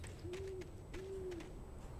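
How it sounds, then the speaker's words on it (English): Owl hooting in the video game Alan Wake, two drawn-out, evenly spaced hoots sounding clearly over a quiet, dark ambient bed with faint background noise. "I hear an owl."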